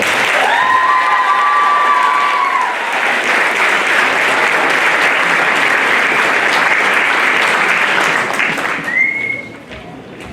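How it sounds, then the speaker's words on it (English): Sustained loud applause from an audience at a middle school 7th grade academic awards ceremony, honoring a 7th grade student, with a brief overlapping voice early on and the clapping tapering near the end. "Let's give her a round of applause"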